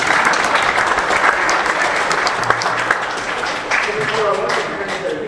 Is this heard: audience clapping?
yes